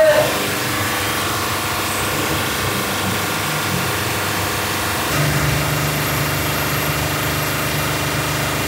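A Mercedes S350 CDI V6 diesel with a fault idles steadily nearby, with a rough, clattering mechanical rattle throughout and a slight shift in tone partway through as the throttle is released.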